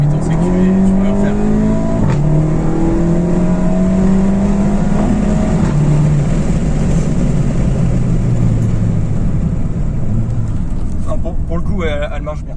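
A VW Golf 7 GTI Stage 1 at 320 hp accelerates hard with wheelspin, its engine note climbing in long rising sweeps that sound steady and loud from inside the car. People talk over the engine throughout.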